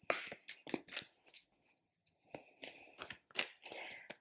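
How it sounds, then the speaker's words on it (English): Deck of playing cards shuffled by hand during a morning card reading, giving crisp riffling and rustling bursts with brief pauses, close and moderately loud, with no talk over it. "Have a little shuffle of the cards."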